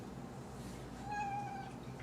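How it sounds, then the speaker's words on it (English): A pet cat gives a single drawn-out meow, soft and fairly close, over a low steady background hum with no talking. "My little kitty."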